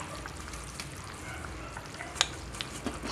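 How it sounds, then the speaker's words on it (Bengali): Rohu fish pieces dropped into a simmering curry of green banana, potato and bitter gourd, a faint steady bubbling sizzle with a few small sharp pops and clinks near the end. "ফুটে গেছে এবারে মাছগুলো দিয়ে দেবো"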